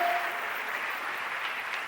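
Congregation applauding during a church sermon, a steady dense wash of clapping that holds evenly at moderate level for a couple of seconds without talk.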